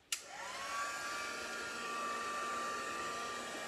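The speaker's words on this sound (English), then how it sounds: "I'm going to take the heat tool to it to dry it" A heat tool blows hot air over wet cardstock during cardmaking, a steady close-up whine and rush of air that starts abruptly and holds constant without pause.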